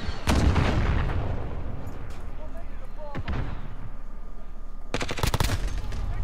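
Gunfire in the Modern Warfare video game: bursts of loud rapid shots opening the clip, a single sharp report near the middle and another fast volley near the end, over a constant low rumble.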